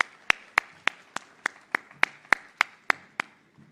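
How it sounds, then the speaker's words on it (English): Applause at the Safari Rally Kenya 2025 event at KICC, heard as sharp, evenly spaced claps about three per second, crisp and close, about a dozen in a row with quiet between them. "a big applause for your president and for the whole team"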